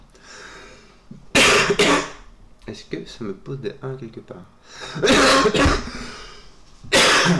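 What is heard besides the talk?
coughing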